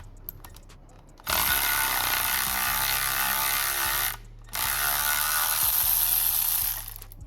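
A ratchet wrench loosening an 18mm nut on a 2009 Vauxhall Zafira wishbone, two long loud runs of rapid buzzing clicks separated by a brief pause, close to the microphone and without speech.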